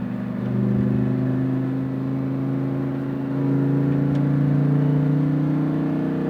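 Lamborghini Huracan engine pulling under medium throttle through a right-hand turn on a race track, a loud, steady in-car drone with rising harmonic tones that swell again partway through.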